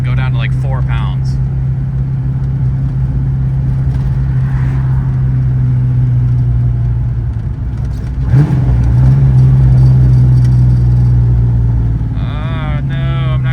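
Ford Foxbody's engine runs loud and steady throughout, a deep rumbling drone with a brief rise in revs near the middle; short bursts of talk come at the start and end.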